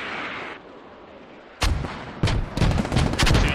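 A mortar barrage in the video game Squad lands nearby. After a quiet stretch it breaks into a run of loud, close explosions that come in uneven thumps and overlapping booms.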